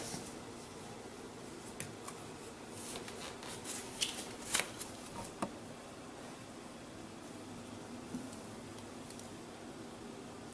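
Brew enhancer powder blended with dextrose is scooped and spilled, giving a soft granular rustle and scraping with a few sharper crunchy bursts in the middle, close and fairly quiet over a steady hiss.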